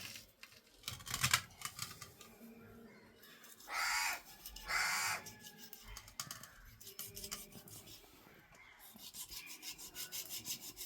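A couple of harsh crow caws ring out among close scraping and rubbing noises of a knife being scraped in a kitchen, with no one talking.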